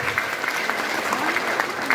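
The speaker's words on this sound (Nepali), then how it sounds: "प्रिय म्यामको लागि यसरी जोरदार ताली" An audience at a business seminar gives loud, sustained applause. Dense clapping from many hands fills the room evenly, with no pause.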